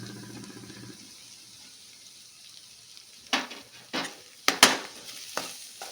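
Grated broccoli and onion fry in oil with a low, quiet sizzle, then several sharp scraping and clanking strokes of a spoon mixing them in the pan; nobody talks.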